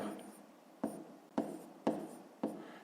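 A pen writes numbers on paper while a fifth-grade math exercise is worked out, giving four or five short, faint scratchy strokes at a quick, uneven rhythm, close up with no voices.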